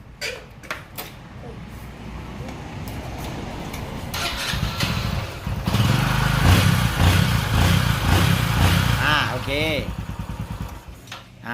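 Honda Dream Super Cup motorcycle engine kicked over and caught, then running at a loud, steady close idle with a few revs, while people talk over it.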